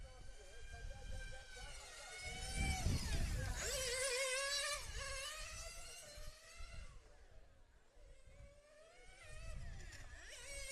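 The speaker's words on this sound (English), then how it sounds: "now he's the only car on track. Everyone can hear his engine." A 1/8-scale nitro RC car races around an on-road track, its high, buzzing engine whining up and down through gear changes and rising to a peak before fading as it passes, with a commentator talking over the top throughout.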